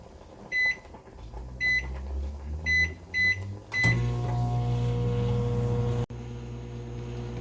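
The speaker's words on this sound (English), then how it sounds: "I put this into the microwave for 2 minutes to get it heated up just a little bit" A microwave oven warming bruschetta gives four short keypad beeps and a fifth tone, then a steady, fairly loud running hum with a faint rattle, briefly interrupted partway through.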